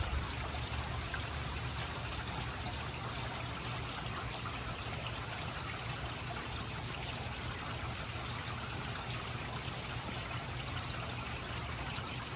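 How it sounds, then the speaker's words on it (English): Steady rain falls during Hurricane Milton, a faint, uniform hiss and patter that holds constant throughout without pauses or voices. "This has kind of been how it's been consistently raining"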